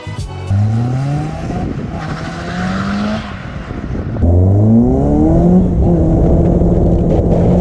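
A Caterham sports car accelerates hard on a road and circuit test, its engine rising in pitch through gear changes, loud and close, with a faint tire squeal.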